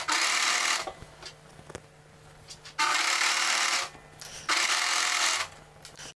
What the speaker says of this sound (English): we will start overlocking from the sleeves and we will move down